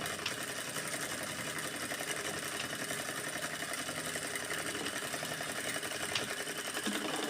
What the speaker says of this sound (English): if you are pressing automatically, it's taking back stitch